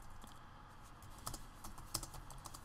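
Keystrokes patter steadily on a computer keyboard, close and moderately quiet, with a few sharper key presses standing out, and no voices.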